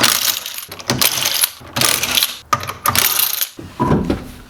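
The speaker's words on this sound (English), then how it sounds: "let's get this wheel off and let's get heating up." Metal clanks, ratcheting and tool clatter from taking a wheel off a Honda Civic being prepared for a dyno, loud and close in several bursts separated by short pauses, with no talking.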